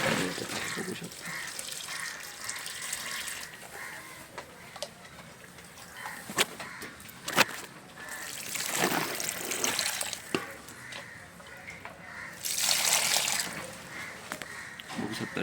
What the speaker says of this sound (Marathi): आता या झाडांमध्ये पाणी ओतत आहे